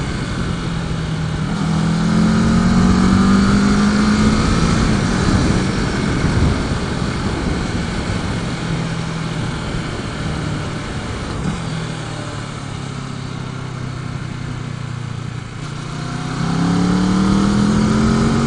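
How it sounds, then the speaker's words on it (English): A motorcycle is ridden along a twisty road, its engine droning steadily with rising and falling revs through the bends. Wind rush stays constant throughout, and no one speaks. "this may very well be my last little twisty ride with this bike"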